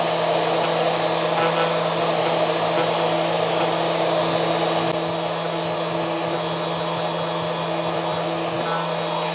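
Worx WX820 5-in-1 electric sander running steadily with a loud, constant whirring motor hum and a faint sanding hiss, sustained without pause and without speech.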